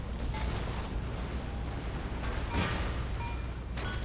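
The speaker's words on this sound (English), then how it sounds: "that cannon did not listen to my main attack and just fired at what it wanted to" Cannon volley from a dozen cannons firing at a wall in a strategy video game: a dense, rumbling wash of distant booms, with one sharper, louder blast standing out near the end.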